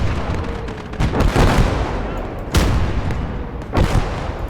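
Artillery fire in a World War II video game battle set between D-Day and the Rhine, heavy booms and rumbling blasts landing in loose bursts over a continuous battlefield din, with one sharp, loud impact standing out midway and another near the end.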